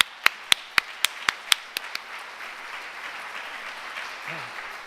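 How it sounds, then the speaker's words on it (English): Audience applause at a business panel event honoring women business owners, opening with a handful of sharp distinct claps that soften into a diffuse patter of clapping, moderately distant. "So let's have another round of applause."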